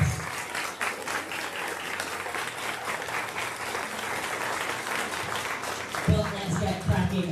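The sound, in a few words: audience applause at strongwoman competition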